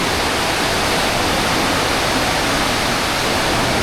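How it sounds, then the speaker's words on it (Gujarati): Rushing water of the Mandakini river near Kedarnath, swollen by rain, roars as a loud, steady broadband torrent with no breaks and no voices. "ઉપર વરસાદ છે ને લીધે કેટલું પાણીના અવાજ આવે છે"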